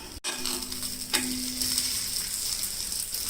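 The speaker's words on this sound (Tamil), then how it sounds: "எண்ணெய் விட்டுக்கலாம். மிதமான தீயில் இதை வேக விடுங்க." Kara adai lentil batter pancake frying in oil over medium heat, a steady moderate sizzle with a brief knock near the start and a short scrape shortly after, no voices.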